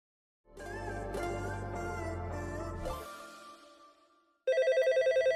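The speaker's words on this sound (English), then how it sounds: "the phone keeps ringing" A telephone rings in rapid, evenly pulsed electronic bursts, loud and near, after a long sustained tone fades away. No voices are heard.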